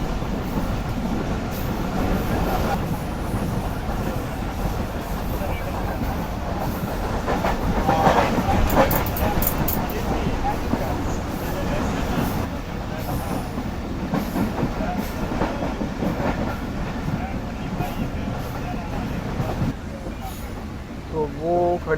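Karakoram Express train running fast on high-speed track, a continuous loud rumble and rattle of wheels heard from on board, with a voice talking over it.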